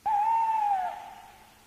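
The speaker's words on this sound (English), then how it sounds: "An owl came out and flew about," A single owl hoot, a long clear tone that holds steady and then slowly fades out, heard alone with no talking.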